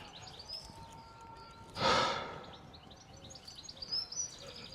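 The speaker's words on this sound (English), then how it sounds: "I can still hear birds." Faint bird chirps and tweets sound in the distance over quiet background hiss, and a brief breathy burst comes midway.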